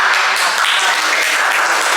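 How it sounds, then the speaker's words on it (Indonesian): Dense, steady applause from a classroom audience during a student-teaching lesson, a loud continuous wash of many hands clapping throughout with no pause. "Iya, luar biasa. Tepuk tangan."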